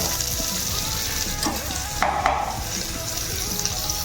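Whole spices for tempering splutter in hot oil in a home kitchen pan, a continuous close sizzle that flares into a couple of louder crackling bursts partway through.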